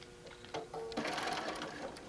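A sewing machine hums steadily while stitching binding onto a placemat made from a fabric panel, close and clear, its run rising in pitch after a brief pause.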